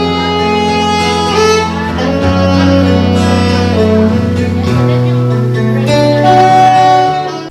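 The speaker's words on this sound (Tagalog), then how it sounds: "Nakaka-relax yung tunog ng saxophone para kang hinihele." A live band plays in a restaurant, with a saxophone carrying a smooth, sustained melody over chords and bass. The music is continuous and relaxed, fairly close and steady in level, with no clear talking.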